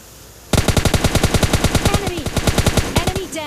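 Rapid automatic gunfire bursts in PUBG Lite, a long string of sharp, evenly spaced shots starting abruptly after a brief quiet moment, loud and close with a few slightly uneven gaps.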